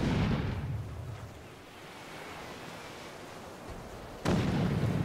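A ship's cannon in the video game ARK: Survival Evolved fires a deep, booming blast that fades into a steady rush of wind and surf, then a second sharp boom bursts in near the end, loud and close.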